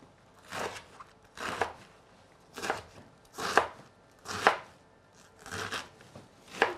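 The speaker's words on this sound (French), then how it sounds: "je commence par découper mon chou, grossièrement également" Cabbage being coarsely chopped with a knife for a vegetable soup, seven crisp crunching chops in a slow, roughly even rhythm, close and clear with no talking.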